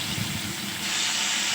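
Cut raw banana pieces dropped into hot mustard oil already crackling with cumin seeds, a close, steady frying hiss that swells louder as the pieces settle in; no one speaks.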